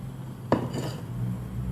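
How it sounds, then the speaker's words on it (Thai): Tom yum fish head soup being ladled into bowls, a single sharp clink of a utensil against a pot or bowl, followed by soft liquid movement against a low kitchen hum, no talking. "ทีนี้เราก็จะมาตักใส่ถ้วยเนาะ"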